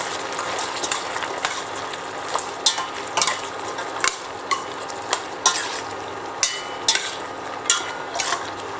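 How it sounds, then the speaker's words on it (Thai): Pea eggplants being stir-fried with green curry paste for a Thai green curry, a steady sizzle broken by repeated sharp scrapes and taps of a spatula against the pan, close and alone. "ตามด้วยมะเขือพวง60 กรัมนะคะ ผัดให้เข้ากันค่ะ"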